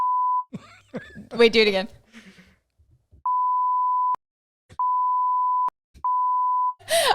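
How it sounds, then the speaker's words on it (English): A sound-effect button is pressed repeatedly, each press giving a steady electronic beep of about a second with gaps between them. People talk briefly at the start, and another voice cuts in at the very end. "I feel bad for only audio listeners right now because I'm beeping."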